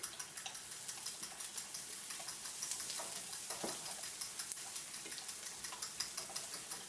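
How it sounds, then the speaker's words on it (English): A fork or whisk beats eggs with salt in a bowl for a Spanish omelette, with steady rhythmic clicks repeating about three times a second and close, quiet scraping and no talk. "Make sure you mix very well."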